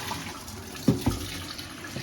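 Cold tap water runs and splashes inside an electric kettle during a rinse after a descaling cleaner, a steady hiss with a couple of sloshing knocks near the middle.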